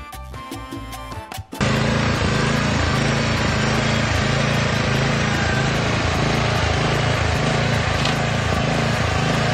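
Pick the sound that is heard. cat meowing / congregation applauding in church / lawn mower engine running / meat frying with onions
lawn mower engine running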